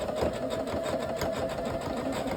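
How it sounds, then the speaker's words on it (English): A sewing machine stitches a quilt four-patch with a fast, even mechanical whir and rapid needle patter, close and moderately quiet throughout. "I'm sewing this 4-patch together so that way we can assemble it and see what we've got."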